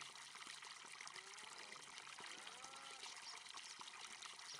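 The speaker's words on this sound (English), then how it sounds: "Once we've filled our barrel," Water pours into a barrel trolley in Farming Simulator 25, a steady trickling, gurgling stream that runs continuously and moderately loud throughout.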